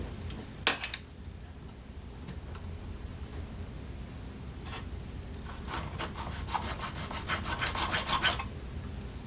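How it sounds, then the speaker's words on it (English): A hand file rasps against a metal ring shank being cut down to size, coming in short bursts of scraping strokes at first and then a quicker, louder run of rhythmic strokes near the end. "you don't wanna watch me filing all this"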